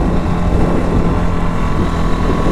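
A 2023 CFMOTO CFORCE 625 ATV engine revs high during a test ride, a loud, continuous roar close up with rumbling low end and wind buffeting, steady throughout with no speech.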